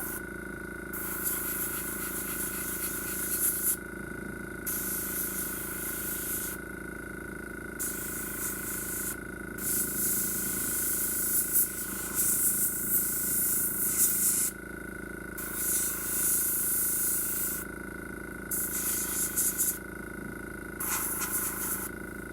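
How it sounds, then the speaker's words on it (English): Spray paint can spraying in repeated hissing bursts of a few seconds each, separated by short pauses, close up over a constant background hum. "I was going to paint the inside of that, and when I sprayed it"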